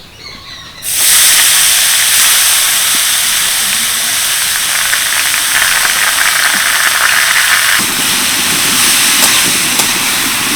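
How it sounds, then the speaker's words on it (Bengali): Grated hog plums drop into hot oil with lightly fried spices for a pickle, setting off an abrupt, loud, steady sizzle that keeps hissing for about ten seconds without speech. "এবারে গ্রেট করে রাখা আমড়াগুলো দিয়ে দেব"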